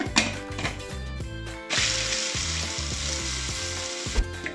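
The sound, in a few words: Samurai food processor grinding cashews into fine flour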